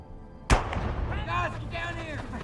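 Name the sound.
gunshot in the film The Maze Runner: Scorch Trials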